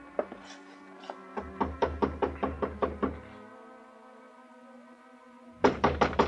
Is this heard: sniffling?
no